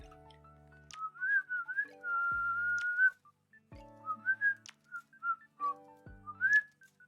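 A person whistles a short tune in several phrases, with sustained and wavering clear tones broken by brief pauses. Sharp clicks and low tonal background noise sit between phrases.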